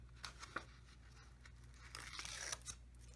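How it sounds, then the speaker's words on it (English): Release liner peeled from a strip of adhesive tape while crafting a mini album, a quiet, close tearing rasp that swells into a brighter crinkling rip near the end, with no talk. "remove the liner"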